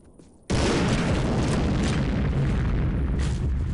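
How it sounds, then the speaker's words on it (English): Landmine going off in Postal 2, a sudden loud close-range blast after a quiet moment, followed by a sustained roaring rumble that fills the rest of the moment. "stepping on a mine causes a loud explosion that is cosmetic"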